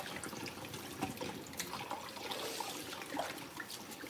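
Tap water runs steadily into a sink while a pan soaked overnight is being cleaned out, a soft continuous splashing stream with no talking.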